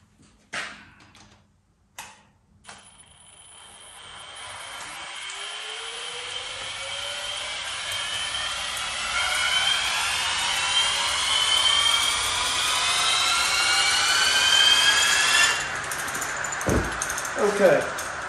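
Bicycle wheel spun up to speed for a gyroscope demonstration on a turntable, a few clicks and taps followed by a rising, whirring hum that builds over many seconds and then stops abruptly, with some talk in the background.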